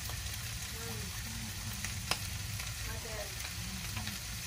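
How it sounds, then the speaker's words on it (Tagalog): Sisig frying in a pan, a steady close sizzle and crackle of meat cooking on the heat, with a faint scrape of stirring and one brief clink partway through. "Yan lang natin na uminit yung sisig at saka maluto ng kaunti."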